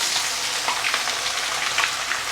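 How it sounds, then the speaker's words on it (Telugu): Ginger garlic paste fries in hot oil for a gongura chicken pickle, giving a close, continuous dense sizzle with light crackling pops and faint stirring, no talking. "అల్లం వెల్లుల్లిపాయ పేస్ట్ వేసేసాను"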